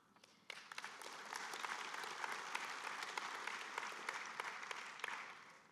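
Audience applause for award winners at the OHBM 2025 closing ceremony, starting abruptly and swelling into sustained clapping from a large hall, individual claps popping out of the steady roar, with no talking.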